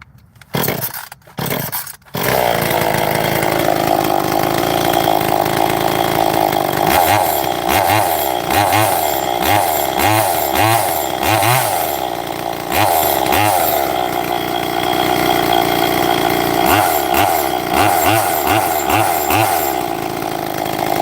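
Chainsaw with a JB Weld–repaired crankcase and a swapped cylinder and fasteners, running on its first heat cycle: a loud, steady two-stroke drone with bursts of revving and throttle blips, close by and with no talk.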